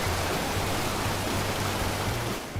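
Constant roaring rush of falling water, dense and steady like a large waterfall heard from nearby, with no voices. The Balaifosson waterfall, a very tall European waterfall.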